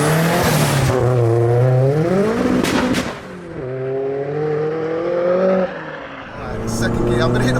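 A tuned 522 bhp Audi A3 1.8T accelerates hard on a track, engine pitch climbing through rising pulls with sharp drops at each gear change, loud and close, with brief shouts over it.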